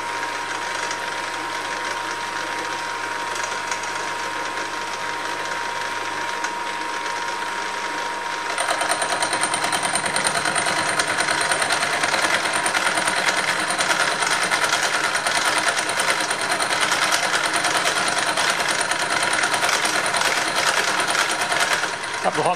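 A Hafco AL355 metal lathe takes a 2mm cut. A steady mechanical whir runs throughout and turns louder and harsher partway through as the tool bites in, with no talking.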